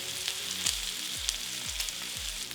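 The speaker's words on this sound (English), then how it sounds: "We'll put in our rack of lamb. We'll sear it that way, and we're gonna sear it like 3 minutes." A rack of lamb sears in a hot, smoking pan, giving a steady close sizzle and hiss with faint sputtering crackles, no voices heard.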